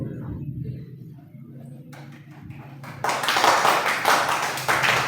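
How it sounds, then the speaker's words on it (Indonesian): After a quiet stretch with a faint low hum, a teacher-training audience breaks into clapping following a role-play, the applause rising suddenly and continuing dense and steady to the end. "Beri tepuk tangan untuk Ibu"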